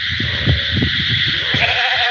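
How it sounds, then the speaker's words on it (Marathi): A large flock of about three hundred sheep bleats nearby, with several overlapping wavering cries in quick succession over a constant background din. "या ठिकाणी मी आता तीनशे तीनशे मेंढी आहेत मित्रांनो"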